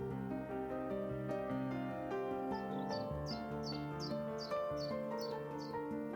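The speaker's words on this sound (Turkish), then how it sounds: "kuş seslerinin arasında." Birds chirp and sing outdoors, with a repeated series of short high calls over a steady bed of louder tonal background sound.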